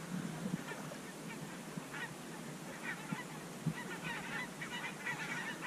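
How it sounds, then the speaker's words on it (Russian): Geese honk repeatedly in the distance, scattered calls from several birds over a quiet outdoor background at Segozero lake. "Вот идут гуси. Смотрите, прямо на нас."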